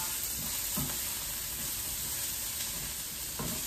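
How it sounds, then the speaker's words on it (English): Onions and celery sautéing in a pan, a constant close sizzle with occasional soft scrapes of stirring, no talk over it. "while my onions and celery are sauteing up"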